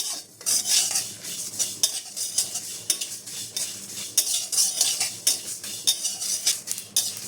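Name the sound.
spices and black cumin being stirred and fried in a pan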